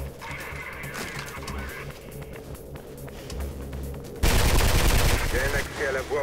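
Rapid machine gun fire from the video game Mirror's Edge bursts in loud and dense partway through, following a stretch of quieter in-game ambience and murmur.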